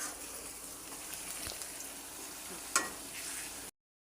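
Meat masala spices sizzling and being stirred in hot oil for biryani, a soft steady frying crackle with one sharp clink of a utensil, fairly quiet.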